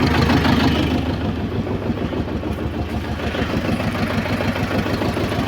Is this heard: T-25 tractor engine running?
yes